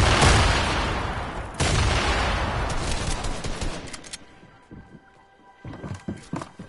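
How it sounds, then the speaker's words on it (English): Video game gunfire bursts out loud and close in dense volleys, a second sharp salvo hitting partway through, then thinning into scattered shots and faint clatter. "there's people shooting at us"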